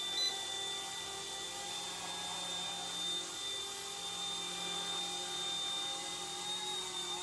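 Small Eachine E120 BO-105 ready-to-fly RC helicopter hovering indoors, a steady high-pitched rotor whine with a motor tone held loud and close for the whole stretch, no talking.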